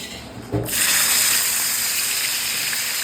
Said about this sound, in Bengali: এবার এটার মধ্যে ওই তেলে এই দানাগুলোকে ভেজে নেবো